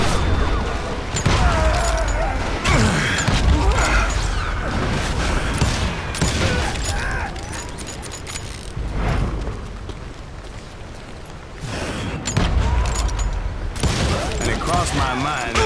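Sustained gunfire from a Wild West shootout in the video game Call of Juarez Gunslinger, with dense overlapping shots and booms running loud and continuous under game music and effects, surging in bursts throughout.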